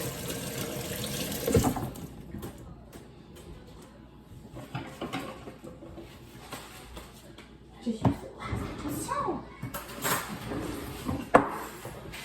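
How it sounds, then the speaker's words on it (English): A kitchen tap runs while someone washes their hands at the sink during cooking. The flowing water splashes steadily and gets louder in the second half, with a few knocks and clatters and a voice talking over it. "I'm washing my hands over here."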